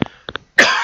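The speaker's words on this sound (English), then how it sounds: "I still haven't got rid of this horrible bastard cough" A man coughs near the microphone: a short sharp burst and two quick follow-up hacks, then a harsh, drawn-out rasping cough that lingers loudly to the end.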